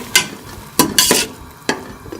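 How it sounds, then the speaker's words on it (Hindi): Masala spices for beef gobi gosht being stirred in a pan, with several sharp scraping strokes and light sizzle close by, no talking. "बाकी ये सारे मसाले डाल के जो है वहाँ हम इसको अच्छी तरह से भून लेंगे"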